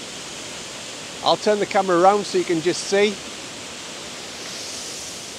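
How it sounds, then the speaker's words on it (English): A waterfall in a landscape roars as a steady, even rush of falling water in the background, while someone talks briefly over it. "Hopefully you can see the waterfall in the background."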